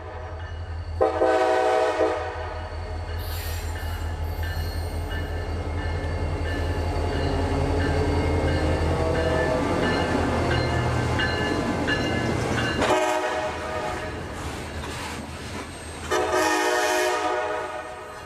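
A CSX freight train passes with several long blasts of its horn over the steady rumble and clatter of wheels and cars, loud and close throughout.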